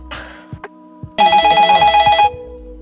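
A telephone rings once in a single loud electronic trill of about one second, clear and close, between scattered small handling noises and near-silence.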